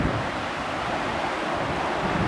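The Shoshone River in Wyoming rushes steadily near a bridge, a continuous broadband wash of flowing water with some wind buffeting on the microphone, loud and close with no speech.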